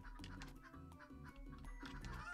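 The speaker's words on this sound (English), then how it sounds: "Chicken." Chicken clucking in the video game Turnip Boy Commits Tax Evasion, short repeated clucks over a pulsing, rhythmic game music loop that dominates the mix.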